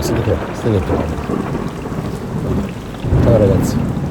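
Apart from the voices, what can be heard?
rain and thunder outside a tent while camping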